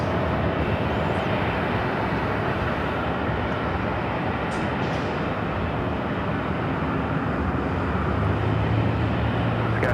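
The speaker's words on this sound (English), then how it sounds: "It's a Delta 757. That was a flight coming in from Atlanta" Delta 757 airliner taxiing at LAX after arriving from Atlanta, a steady, loud broadband jet engine roar holding evenly throughout with no pauses, close and continuous.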